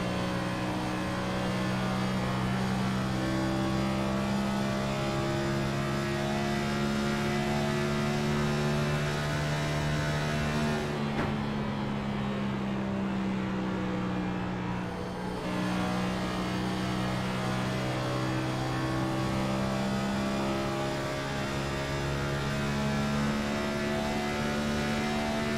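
Onboard engine of a race car lapping Homestead-Miami at full pace, a loud, continuous high-revving drone whose pitch bends and shifts through gear changes and corners, with no voices.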